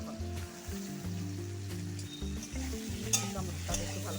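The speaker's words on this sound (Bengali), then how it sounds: "আলুটা একটু ভালো করে হলুদ আর নুন সাথে একটু ভেজে নিব" Potatoes frying with turmeric and salt in a pan, a continuous close sizzle broken by stirring and scraping and a few sharp spatters, while soft music plays underneath.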